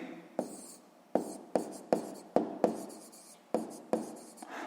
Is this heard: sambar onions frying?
no